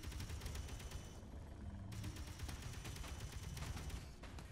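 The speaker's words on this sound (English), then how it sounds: "Stop shooting at me." Rapid turret gunfire in the Space Engineers video game, a dense, loud stream of repeated shots running continuously with a short dip in intensity partway through.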